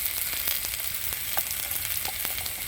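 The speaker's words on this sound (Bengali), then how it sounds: "ভালো করে একটু কষিয়ে নেবো" Fried potatoes sauté with garlic paste, turmeric and chili powder in a hot pan, giving a dense, steady frying hiss with light clicks of a spatula stirring now and then.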